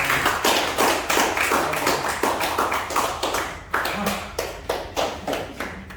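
A small group at a sustainability training session claps in a quick, uneven patter, the applause close and steady before thinning into scattered individual claps.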